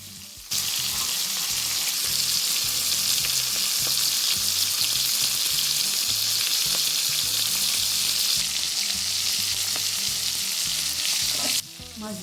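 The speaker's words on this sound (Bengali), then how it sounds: "মাছগুলোকে আমি 10 মিনিটের জন্য উল্টে পাল্টে ভেজে নিচ্ছি" Giant river prawns fry in hot mustard oil as they are turned, giving a loud, steady sizzle that starts abruptly, runs for about eleven seconds, then cuts off.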